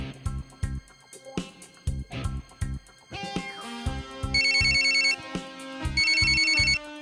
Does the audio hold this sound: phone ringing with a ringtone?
yes